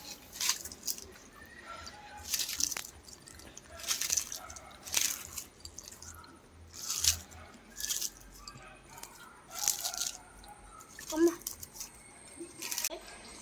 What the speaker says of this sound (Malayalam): അപ്പം നമ്മളിത് ഡയറി മിൽക്ക് വെച്ചിട്ടൊന്ന് മിക്സ് ചെയ്യണം.